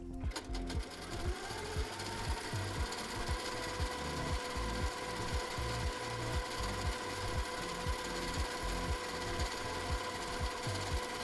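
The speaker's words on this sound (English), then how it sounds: "now attempt to stitch on top of yourself" Sewing machine doing free-motion stitching of ribbon-curl spirals on a quilt block, a steady rapid needle chatter running continuously and close throughout with a faint hum above it.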